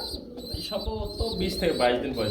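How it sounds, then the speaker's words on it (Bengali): Lakha pigeons, a pair kept with two young chicks, coo softly in a few low pulses close by, under steady bird and background noise. "একজোড়া লাক্ষা কবুতর রয়েছে এদের কিন্তু আবার দুটো বাচ্চাও রয়েছে"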